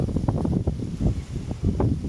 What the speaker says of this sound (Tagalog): Lakas ng hangin, nandito pa naman kami sa sa ibabaw